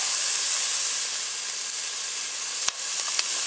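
Thai chilies sizzling steadily in a hot pan, a loud continuous hiss and crackle heard up close, broken once by a brief sharp knock.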